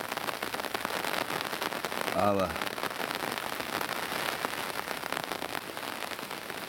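Steady rain patters on surfaces around a castle tower, a dense continuous hiss throughout, with someone briefly speaking over it.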